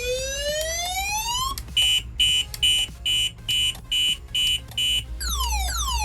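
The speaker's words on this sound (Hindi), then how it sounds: "सायरन बजना शुरू हो गया" A car alarm siren sounds during a remote reset, sweeping upward, then breaking into a regular run of about eight loud electronic beeps before the rising wail resumes.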